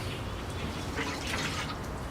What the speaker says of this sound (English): I'm going to give the planting a thorough watering.